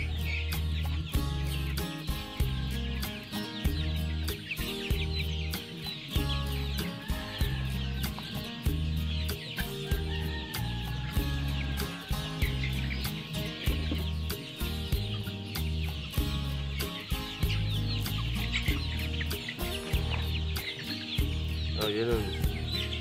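Chickens and chicks on a peaceful Korean farm clucking and peeping continuously, a dense busy chorus close by with overlapping calls throughout.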